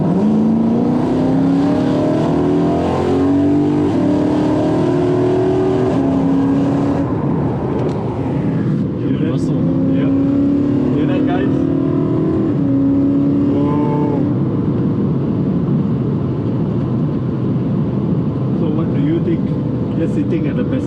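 A loud BMW M3 E92/E93 engine revs and accelerates, its pitch rising and falling through gear changes, heard from inside with a voice talking over it.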